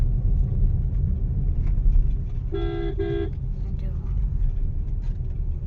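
Two short car-horn toots sound in quick succession over the low, steady rumble of engines in a stopped traffic jam on a road near Rajkot, with people talking nearby.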